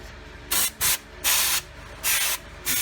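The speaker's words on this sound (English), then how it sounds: "Do the bottom and the top, and then take your brake clean." Brake cleaner sprays onto the front brake hardware and rotor of a 2018 Dodge Charger V-6, in five loud, close hissing bursts separated by short pauses.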